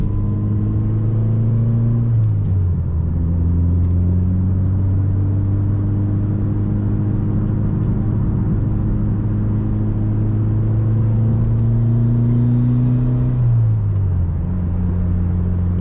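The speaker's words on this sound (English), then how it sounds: "Love the sound of this car though." A tuned turbocharged Mitsubishi Evo engine drones steadily up close, its pitch climbing and then dropping sharply at two gear changes, with a faint turbo whir on top.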